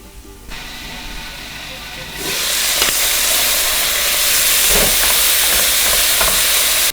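Pork sizzles loudly in a hot pan for a Mexican pork in salsa verde dish, a broad steady hiss that rises suddenly partway through and stays dense, with a few stirring clatters.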